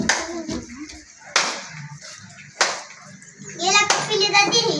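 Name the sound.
children clapping hands in a game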